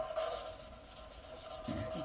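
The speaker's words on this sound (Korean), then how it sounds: "이렇게 사포질을 좀" Sandpaper rubbing a drum washing machine part during assembly, a soft steady scraping with a faint hum beneath, quiet and close, with no talking.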